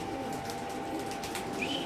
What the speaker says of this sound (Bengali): মাক্সি রেসার দেখেন ভাই রে ভাই, এত চঞ্চল কবুতর